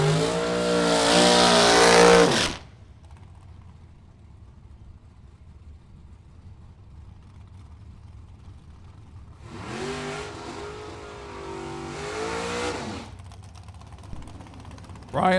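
Drag racing cars, a dragster against a Camaro, roar and rev in loud bursts, one at the start and another later, with quieter engine rumble in between.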